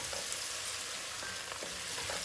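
Fresh ginger and garlic frying in a pan with a dense, even sizzle, heard close, with faint stirring scrapes under it.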